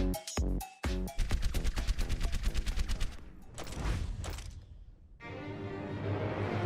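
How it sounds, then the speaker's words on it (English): Soldier 76's Heavy Pulse Rifle fires in Overwatch, a rapid rhythmic stream of punchy game gunshots after a couple of opening shots, loud and close, then fading into a softer whoosh and game effects. "The Heavy Pulse Rifle is Soldier's bread and butter machine gun."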